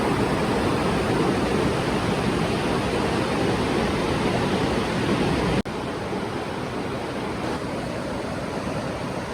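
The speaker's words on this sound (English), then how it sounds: "Those waterfalls are lovely." A rainforest waterfall in Dominica roars as a steady, dense wash of rushing water that stays loud and unbroken throughout, with one brief click partway through.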